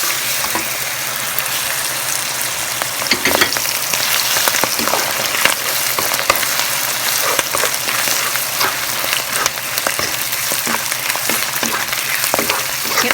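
Sliced pork frying in a pan for Lao stir-fried rice noodles, a steady dense sizzle with crackling pops and occasional stirring clatter, close and continuous with no talk.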